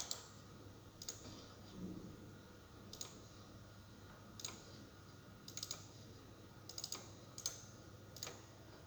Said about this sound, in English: Now we are going to have to type the test bench file.